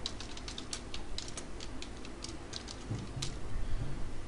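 Quiet, close keystrokes on a computer keyboard as Java code is typed, forming an irregular patter of light clicks with short pauses between bursts.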